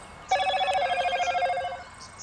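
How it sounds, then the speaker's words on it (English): A phone rings out with a bright, repeating electronic message alert on a quiet public-holiday morning at an archery range, lasting about a second and a half, then stopping. "That's my phone, someone's messaging me"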